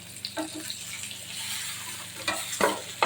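Hilsa fish paturi wrapped in pumpkin leaves frying in hot oil, a soft steady sizzle with occasional louder bursts and clinks near the end, no talk.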